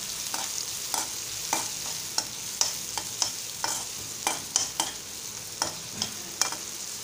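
Onion sautéing for tempered rice: a steady soft sizzle in the pan, with regular scraping stirs from a spatula roughly every half second, close and clear with no talking.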